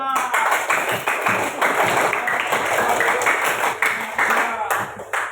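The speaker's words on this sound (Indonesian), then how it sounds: "tepuk tangan untuk kelompok 5" Classmates in a school classroom clap for a student group, a busy patter of hand claps filling the room, with voices chattering over the clapping throughout.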